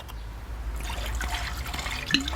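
Cider poured from a bottle into a measuring jug in a home kitchen while making rhubarb chutney, a steady close liquid splash and trickle running throughout with a brief clink near the end.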